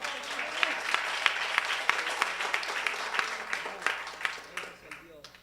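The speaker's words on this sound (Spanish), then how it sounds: "¿Cuánto le dan un fuerte aplauso al Señor?" A church congregation at a Tuesday service claps in a strong, dense round of applause, sharp hand claps crowding together close by, with voices calling out beneath it.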